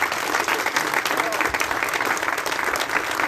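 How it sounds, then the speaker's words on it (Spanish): A crowd gives the state governor a burst of applause, dense, loud and close, clapping that holds steady for a few seconds with no voices over it. "les pido un fuerte aplauso para nuestro gobernador"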